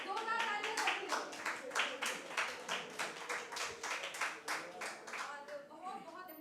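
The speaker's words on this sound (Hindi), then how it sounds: "जोरदार तालियां सबके लिए।" An audience at the UNMESHA 2023 festival in Bhopal breaks into steady, dense clapping that carries on evenly throughout, with a few voices audible within it.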